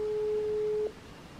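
An unanswered phone video call ringing out as a single steady electronic tone that holds for almost a second and then cuts off, leaving quiet room noise behind.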